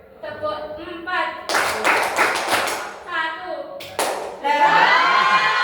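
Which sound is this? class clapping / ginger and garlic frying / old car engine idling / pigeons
class clapping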